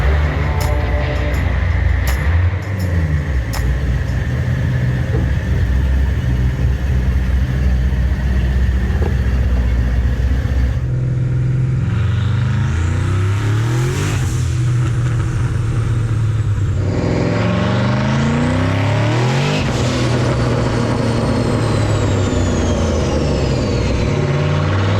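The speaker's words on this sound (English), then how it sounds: "it's time to get this beast on the dyno" A twin-turbo 2013 Chevrolet Camaro SS running on a dyno, its engine roaring loud and steady, then climbing in pitch through repeated revving pulls with rising turbo whine, close and dominant throughout.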